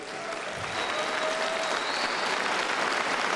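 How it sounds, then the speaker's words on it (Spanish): Sustained applause from a large audience at a Mexican presidential public event about aid for hurricane victims, dense and steady clapping throughout with a faint tone running underneath. "Tienen un aplauso para los de ayudantía."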